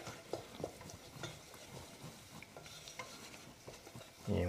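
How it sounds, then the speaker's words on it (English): A flour roux for blanquette de veau is stirred in a pan over low heat, with repeated soft scraping strokes and a light sizzle. A louder rustle comes at the very end, with no talking. "And we just wanna stir it and cook it for about a minute and a half"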